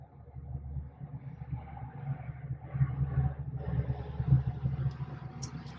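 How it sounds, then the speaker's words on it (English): A city bus driving past outside, a low rumbling engine drone that swells and fades over several seconds at moderate distance, with no talk. "that was a bus. Did you guys hear that?"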